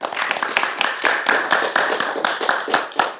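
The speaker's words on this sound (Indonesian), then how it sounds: "Tepuk tangan" Group hand clapping during an Indonesian religious lecture, a steady run of sharp claps repeating in fairly even rhythm, close and loud, with a faint tonal hum underneath and no talk.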